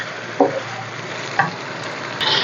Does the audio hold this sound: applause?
no